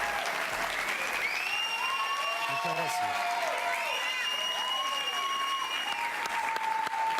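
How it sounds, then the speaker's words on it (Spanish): Studio audience applause for a guest on a talk show, continuous steady clapping with some cheering while someone speaks briefly over it. "Esos aplausos"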